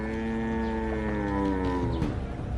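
A single cow gives one long, close, drawn-out moo in a flooded village, Devapur in Gopalganj, Bihar.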